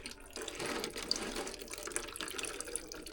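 Fluid pours from a moped during home maintenance, a soft continuous splashing trickle like a running tap, faint and close, with no one speaking.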